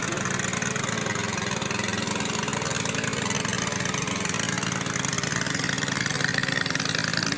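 Motor of a boat travelling on the Salween River near Ban Mae Sam Laep, holding one steady, even drone from start to finish, close and unbroken, with no voices.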